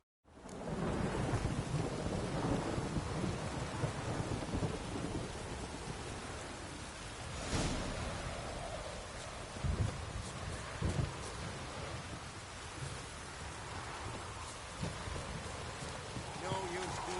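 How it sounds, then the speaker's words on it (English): Heavy rain pours steadily in the game Witcher 3, with rumbling thunder breaking in a few times; a voice speaks briefly over the downpour. "No use doing any work in this rain."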